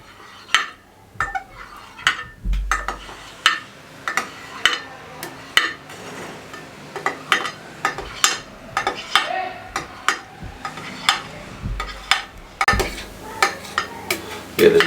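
A knife chops set jelly into small pieces for a sago dessert, giving a steady run of sharp, close taps on a board with a few louder clacks of utensils, and no talk.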